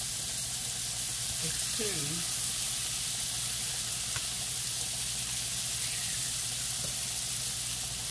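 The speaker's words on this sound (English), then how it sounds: "going to fry three steaks, y'all" Three steaks frying in a pan over high heat give a steady, broadband sizzle throughout, with someone speaking briefly over it.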